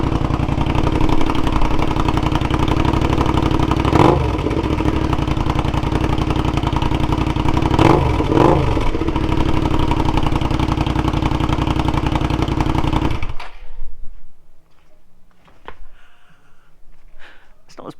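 Suzuki SV650 S motorcycle with a newly fitted loud exhaust, idling with a steady, throbby low rumble close to the mic, a couple of brief revs blipping up, then cutting off near the end to quiet with faint background sounds.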